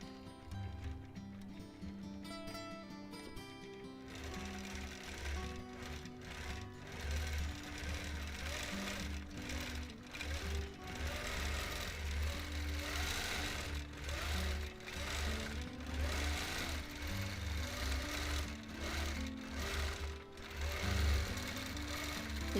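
A free motion quilting machine stitches feathers steadily at high speed, its rapid needle hum running continuously and fairly loud, with brief pauses and shifts in pace as it travels between segments.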